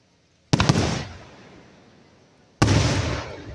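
Two sharp fireworks blasts at a farm show, a couple hundred yards away, one near the start and another about two seconds later, each with a crackling burst that rumbles and fades away.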